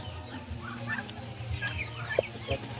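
Chickens cluck in short, scattered calls over a steady low background hum, fairly close, with no clear talk.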